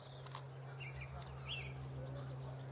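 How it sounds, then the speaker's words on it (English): A few faint bird chirps sound over a steady low hum, brief and scattered, at a distance, during a total solar eclipse in Fairfield, Illinois. "I still hear a few birds."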